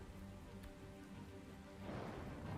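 Continuous rain patter and hiss heard underwater in ARK: Survival Ascended, with a faint low rumble underneath and the downpour swelling louder near the end, no voices present.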